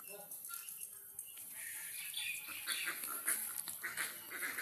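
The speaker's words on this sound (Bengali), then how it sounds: "হাঁস অনেক কয়টা।" A flock of ducks quacking outdoors, a fairly faint, busy chorus of overlapping calls that grows a little louder toward the end.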